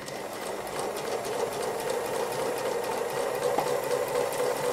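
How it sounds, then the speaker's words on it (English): Sewing machine stitching free-motion embroidery on a boxing hare flower section, a close, steady, rapid needle chatter that runs evenly throughout with no talk. "So I just stitch close to the edge make sure I catch everything down."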